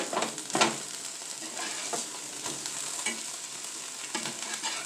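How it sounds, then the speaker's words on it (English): Hamburger patties frying in a pan give off a continuous close sizzle and crackle, with a few louder spatters and scraping sounds near the start, and nobody speaks. "Time to flip these burgers over."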